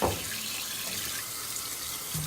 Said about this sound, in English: So now I'm going to take my same towel, warm water.